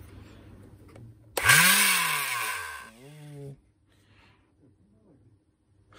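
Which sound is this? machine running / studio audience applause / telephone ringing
machine running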